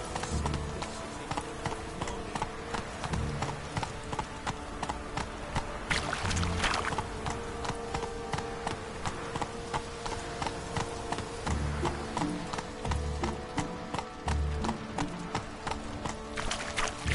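A horse galloping in The Witcher 3, with steady rhythmic hoofbeats clopping close and loud throughout, plus faint background game ambience and no speech.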